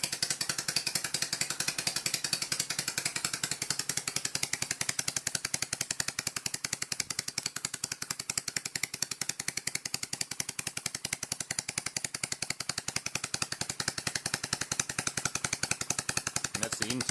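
Copeland scroll compressor running, giving a dense, rapid, even mechanical rattle that is steady and constant from start to finish, moderately loud and close with no voices.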